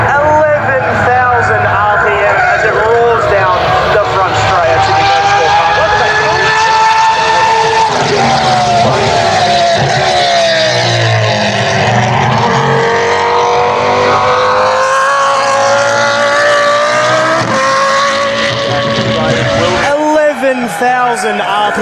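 The Formula Supra race car, V10-powered and revving to 11,000 RPM, roars down the front straight at Sydney Motorsport Park as a loud, high engine scream that rises and shifts in pitch and runs throughout under commentary.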